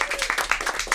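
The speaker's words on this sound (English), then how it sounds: "our hospitality manager, Susan, a big round of applause." A crowd claps for a hospitality manager at a live show, short uneven bursts of close hand claps over about a second, with some cheering voices mixed in.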